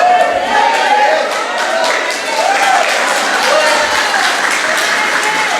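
Church congregation applauding during a Friday regional ministerial service, steady sustained clapping filling the room at moderate loudness, with a voice speaking over it.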